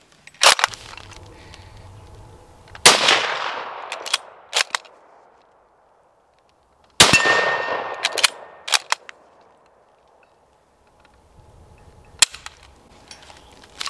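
An Ishapore 2A rifle fires two loud, sharp shots at a steel target, each followed by a decaying echo. Clattering clicks from bolt handling come between the shots, with a further sharp click near the end.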